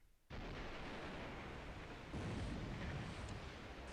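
A torpedo strikes a ship in the War in the Pacific strategy game, setting off a sudden loud roaring blast that holds as a thick rumble, then swells again with a second burst.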